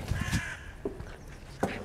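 A crow caws three times in a cemetery in Cagliari, short harsh calls spaced out over a quiet background, fairly close and clear with no talk.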